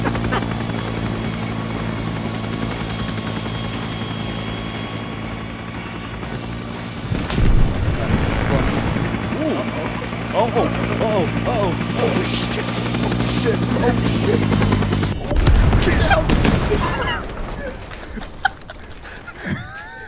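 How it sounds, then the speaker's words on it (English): A helicopter in ARMA 3's S.O.G. Prairie Fire Vietnam setting drones with a steady rotor hum, then noses down and crashes in loud booming impacts and crunching debris, followed by a second violent crash burst near the end. "that was the most spectacular helicopter crash I have ever seen in this game"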